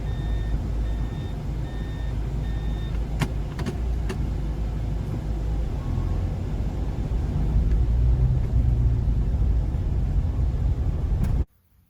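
A Toyota Prado four-wheel drive moves along in high range, its engine and tyres giving a steady, loud, low rumble, with faint dashboard beeps and a few sharp clicks early on.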